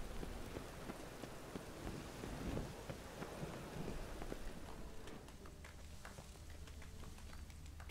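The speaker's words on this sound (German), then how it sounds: "Ein Sturm, verdammt." A thunderstorm in the video game The Witcher 3: steady rain hiss with rolling thunder rumbles, loudest early on and easing toward the end, heard without speech.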